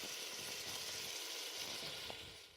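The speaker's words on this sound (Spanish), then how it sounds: "Cuando empiece a sellarse la carne" Soft, steady sizzling of pork for green pozole searing in a hot pan, quiet and continuous with a faint crackle now and then.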